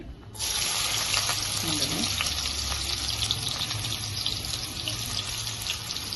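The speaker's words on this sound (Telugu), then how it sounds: "ఇప్పుడు ఉల్లిపాయ ముక్కలు వేసుకుందాం ఆయిల్ వేడెక్కిపోయింది" Onion pieces hit hot oil in a kadai for a mutton fry, setting off a sudden loud, dense sizzle that holds steady and close throughout.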